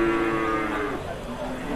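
Limousin cross cattle low loudly at a busy livestock market in Rogojampi, Banyuwangi, one long drawn-out moo that fades into the steady murmur of the crowd.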